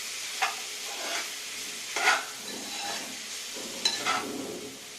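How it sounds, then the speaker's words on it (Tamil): Tomatoes sauté and get mashed in a pan for mutton salna, giving a close, steady sizzle broken by four or five sharp spoon scrapes and stirs, with no voices. "நல்லா தக்காளி எல்லாம் மேஷ் ஆகிடணும்."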